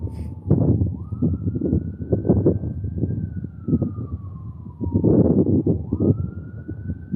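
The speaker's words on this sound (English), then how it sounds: "that's the ambulance that went through there earlier" An ambulance siren wails in long rising and falling sweeps as it passes at moderate distance, over rumbling traffic and wind near a fishing spot.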